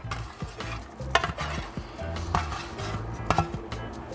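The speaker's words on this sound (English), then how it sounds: "now I'm just gonna put everything in a bowl. All the cauliflower and the kale." Chopped cauliflower and kale tipped into a mixing bowl for a cauliflower gratin, giving a steady rustle with clinks and scrapes against the bowl, close and fairly quiet.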